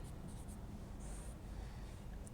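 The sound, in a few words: writing a theorem on a board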